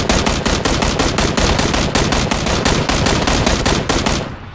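Rapid automatic gunfire in the battle royale game PUBG, a loud, dense stream of shots hammering almost nonstop for several seconds before cutting off abruptly.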